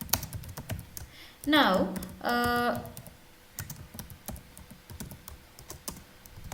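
Keys clatter steadily as Java code is typed on a computer keyboard, a dense run of light clicks that carries on through the clip, with a brief spoken word partway through.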